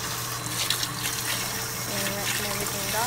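Cool tap water runs steadily into a sink as baby bottles, nipples and pacifiers are rinsed, a constant close hiss with faint sloshing and no other sound.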